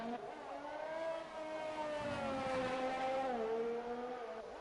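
Race car in a racing video game braking hard into a corner, its engine note sliding steadily downward in pitch as it slows, continuous and moderately quiet with no voices.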